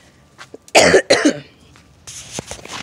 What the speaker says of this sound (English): as you can see, I still have a lingering cough